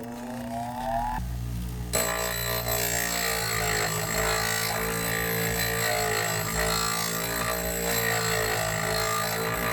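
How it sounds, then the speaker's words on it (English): A power tool grinds down ski bushings with a sustained high whine that starts after a brief rattling lead-in. The whine holds a steady pitch over a buzzing motor, close and loud, with no speech. "I got the bushings ground down to fit in there."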